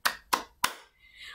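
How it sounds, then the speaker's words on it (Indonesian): Young kindergarten children in a church class clap their hands three times in an even rhythm, sharp and close, followed by a faint high voice afterward. "Siapa yang anak Tuhan tepuk tangan."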